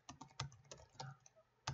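Close, quiet taps on a computer keyboard as a definition is typed, about a dozen irregular clicks in quick succession with short pauses, no voices.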